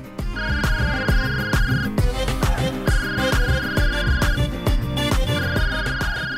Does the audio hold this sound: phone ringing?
yes